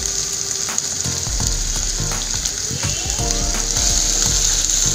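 Chopped onion and cabbage sizzle steadily in a pan for vegetable fried rice, with a constant bright frying hiss and intermittent scraping and stirring clatter from a utensil.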